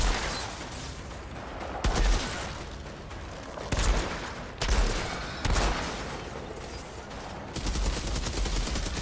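Weapon fire in the Outriders video game, with bursts of heavy shots that set enemies burning. Several loud volleys come in uneven pulses over continuous firing, with no speech.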